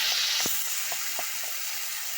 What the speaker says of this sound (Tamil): இப்போ நம்ம அரைச்சி வச்சிருக்க பேஸ்ட்டையில் ஊற்றிக்கலாம்.